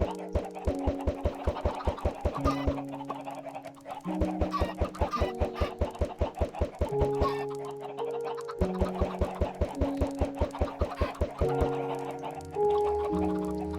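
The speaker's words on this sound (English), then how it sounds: "I don't want any chickens roaming around my" Chickens cluck in a video game, their short calls scattered over a bouncy, rhythmic background melody that carries steadily throughout.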